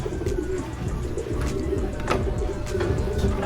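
Young racing pigeons arrive at a loft and coo softly and repeatedly close by, with a few brief wing flaps and light bird chatter in the background.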